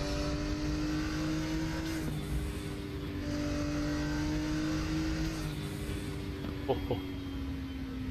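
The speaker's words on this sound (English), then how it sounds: "you've got the beautiful turbo wastegate" A Porsche 934 RSR Turbo racing at Spa in the RaceRoom sim gives a steady, droning engine note that holds at a high pitch with slight rises and dips, plus a brief chirp late on.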